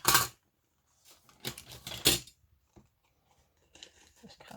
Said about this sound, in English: just with the pair of scissors